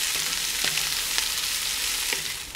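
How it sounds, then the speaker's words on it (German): Steady, dense sizzling of onions frying in hot fat in a Dutch oven for goulash, loud and close, with a few faint clinks of a utensil stirring the pot. "Und die werden wir jetzt erstmal richtig schön anbraten."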